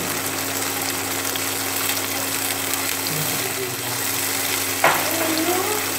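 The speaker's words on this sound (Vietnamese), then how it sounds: "nên rán đậu rất là nhanh thôi." Tofu fries in a non-stick pan over fairly high heat, giving a steady, close sizzle throughout with a brief utensil clink near the end.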